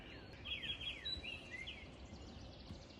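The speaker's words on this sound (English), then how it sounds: "Hopefully you can hear the birds singing." Birds sing in a summer garden, a few high chirps and trills trailing off over a soft outdoor hush, faint and a little distant.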